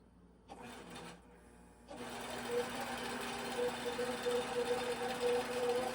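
A sewing machine stitches a quilting path, with a brief stuttering start followed by a loud, steady, fast mechanical whir and rapid needle clatter running continuously to the end.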